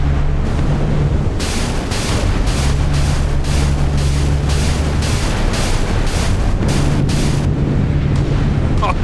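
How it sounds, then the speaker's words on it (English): A naval battle in the game Sea Power, with an Arleigh Burke II destroyer against a Slava cruiser and a Kirov battlecruiser, fills the clip with loud continuous booming and repeated rapid bursts of missile launches and gunfire. "there's some missiles going up"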